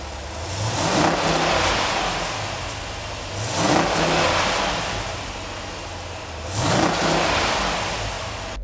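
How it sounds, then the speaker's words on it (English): A 2012 Jeep Grand Cherokee SRT8 heard from outside as its engine is revved three times, each rise swelling to a roar and falling back to a steady idle between, moderately close, with no talking. "give you a little rev test so that you can hear what it sounds like from the outside."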